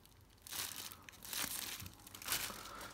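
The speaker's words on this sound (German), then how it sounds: "So viel Folie, so viel Styropor." Plastic film and styrofoam packaging crinkle and rustle while a 12W AUKEY LED desk lamp is unboxed, several close, moderately quiet bursts of crackling with no talking.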